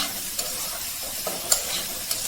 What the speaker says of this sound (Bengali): এই পেঁয়াজ, মরিচ, পটল, আলু সব কিছু ভালো করে আপনারা নেড়ে চেড়ে নেবেন